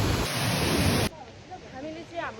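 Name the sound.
large flowing stream or waterfall on a hiking trail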